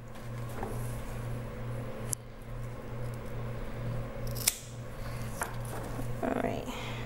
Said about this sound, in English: So maybe I will cut that actually to see if I can get it to fill in a little bit.